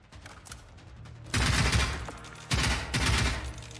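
Gunfire from a Generation Zero video game firefight: a steady background of shots swells into two loud, dense bursts of rapid automatic fire that rattle on for over a second each.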